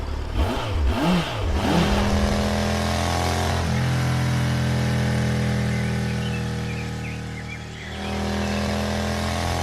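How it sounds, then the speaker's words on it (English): A motorcycle starts with a few sharp revs, then pulls away with a loud, rising engine note that holds steady, dips briefly and swells again. "Then he got onto the motorcycle and drove off."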